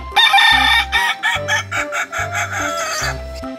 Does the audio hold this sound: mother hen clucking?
yes